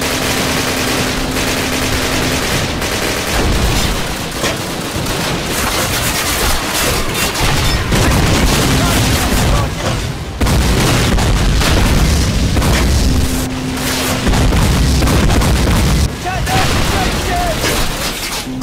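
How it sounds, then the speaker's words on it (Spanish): Heavy cannon fire aimed at a tank in a Call of Duty campaign mission, with loud booms and bursts of gunfire filling the scene continuously alongside a voice talking. "ahora utilizamos el cañón, nos metemos, este tardará bastante en dar el giro completo para"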